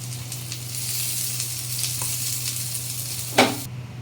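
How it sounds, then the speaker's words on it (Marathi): Sliced onions fry crisp in hot oil, a steady close sizzle with a constant low hum beneath and a brief clatter of stirring near the end before it cuts off. "आपल्याला हा कांदा सेपरेट म्हणजे वेगळा फ्राय करायचा आहे, तो पण एकदम कुरकुरीत"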